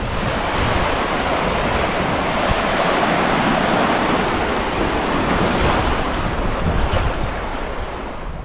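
Surf washing steadily onto the shore of a large, quiet bay on Phayam Island, a continuous loud roar of breaking waves mixed with wind buffeting the microphone, no voices.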